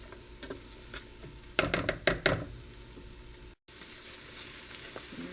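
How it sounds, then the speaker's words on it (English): Food sautés on medium heat in a pan for tamale pie, a soft steady sizzle broken by a burst of sharp stirring and clattering knocks midway, then the quiet frying resumes. "you're just going to saute this on medium heat just for a little bit"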